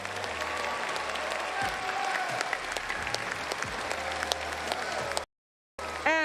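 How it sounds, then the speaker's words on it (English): An audience at the 2022 Pokémon World Championships finals applauds with dense, sustained clapping that fills the room, then cuts off abruptly before a brief burst returns. "Let's give him a big round of applause"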